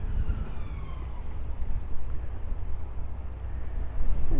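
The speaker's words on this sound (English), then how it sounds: "Probably that wind is going to attack us now. It's really windy." Strong wind buffets the microphone outdoors beside a building demolition site, a constant low rumble and roar that swells and gusts without pause.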